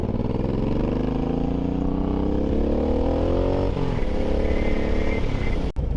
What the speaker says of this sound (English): Okay, we have a motorcycle.